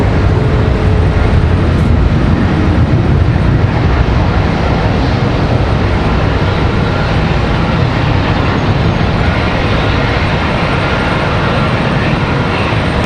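Airliner taking off at Charlotte Douglas airport in a steep, early-rotation departure, a loud continuous low engine roar dominating and holding steady throughout, with no voices.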